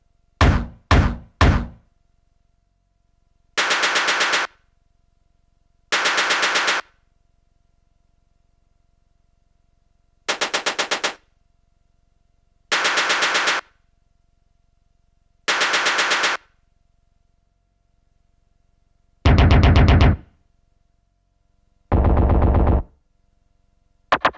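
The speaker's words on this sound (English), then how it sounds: "For the chain gun, I used a metal hit recording, which was heavily pitched down and distorted." Heavy, distorted video game chain gun bursts made from a pitched-down metal hit recording, fired in short repeated volleys separated by pauses, loud and close with no talking.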